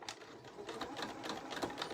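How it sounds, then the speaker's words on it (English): A sewing machine stitches a zipper tab for a fabric Christmas tree pouch. It runs at a quick, even, rattling pace, close and moderately loud, with no talking. "I'm holding my threads up and I'm just going to start to sew."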